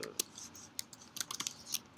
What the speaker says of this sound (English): I'm starting to type